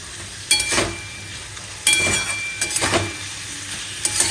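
Kashmiri chili powder spice mix fries in a pan under a continuous sizzle, broken by a few loud scraping stirs and metal clinks of the spatula, close up with no talking.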